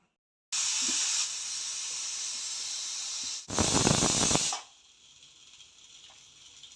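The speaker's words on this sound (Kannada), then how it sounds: "ನಾನಿಲ್ಲಿ 2 ವಿಷಲ್ ಕೂಗಿಸ್ತಾ ಇದ್ದೀನಿ" A pressure cooker on a stove vents while sambar cooks, a loud steady steam hiss lasting about three seconds, then a harsher sputtering burst before it fades to a faint background hiss.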